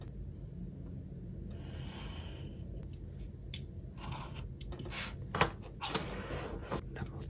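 Scissors or a blade cutting a spine piece of board for a mini hardcover book, with quiet intermittent snipping and rubbing sounds close by.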